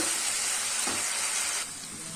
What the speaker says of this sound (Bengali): আদা রসুন আর কাঁচা লঙ্কা পেস্টটা দিয়েও ভালো করে একটু নাড়াচাড়া করে দিচ্ছি